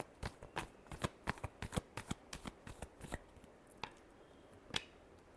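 Tarot cards shuffled by hand at close range, a quick run of crisp riffling snaps that thins out toward the end, with no talking.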